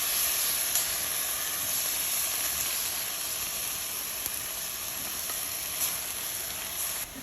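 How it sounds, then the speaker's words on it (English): Ostrich meat and asparagus stir frying with Worcestershire sauce in a hot pan, a steady, loud, unbroken sizzle and hiss with faint stirring noises throughout. "continue to stir fry it. Finally, we're gonna add in our Worcestershire sauce."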